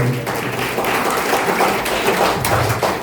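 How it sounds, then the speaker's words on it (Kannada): A crowd applauding, a dense steady wash of clapping throughout, fairly loud and close. "ಒಂದು ಜೋರಾಗಿ ಚಪ್ಪಾಳೆ ಬರ್ಲಿ"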